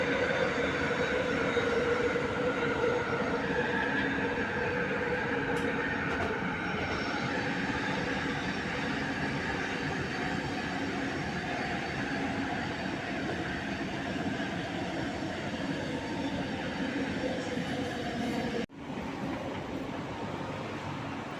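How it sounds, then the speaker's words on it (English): Train riding on rails, heard from inside as a loud, steady low roar with a droning hum that runs without a break, then briefly dips near the end before carrying on. "So the train came up on me suddenly"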